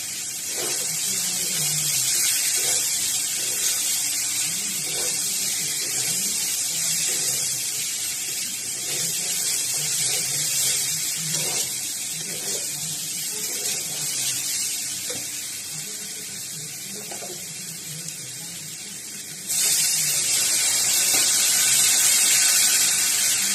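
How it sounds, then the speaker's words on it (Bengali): Hot water poured into soya chunks frying in a pan, a steady loud rush of running water lasting throughout with a brief shift near the end. "নেড়ে নেড়ে ভালো করে কষানো হলে আমি এর মধ্যে দিয়ে দেব গরম জল।"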